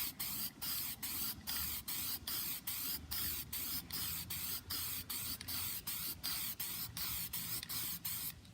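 Repeated short bursts of a spray can laying a thin coat of flat paint onto a 2016 Camaro trunk plate, about sixteen evenly spaced hisses with brief gaps, close and fairly quiet.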